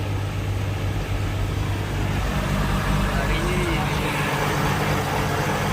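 A fishing boat's engine out hunting hilsa runs at a steady low drone with a rumbling hum, continuous and close throughout.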